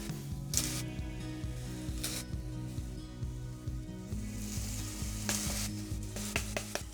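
Onions and garlic fry in a pot for butter tofu, a steady close sizzle with clattering stirs and occasional sharper bursts of spitting oil throughout.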